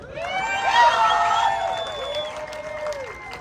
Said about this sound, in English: Let's give a round of applause, Marcelillo.